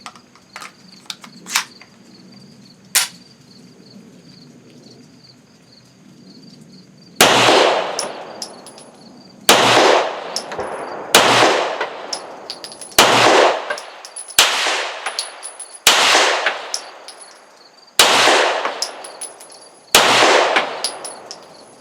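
A Walther P1 (P38) 9mm pistol fires eight sharp, loud shots outdoors at a steady pace of roughly one every second or so, preceded by a few metallic clicks and handling noises.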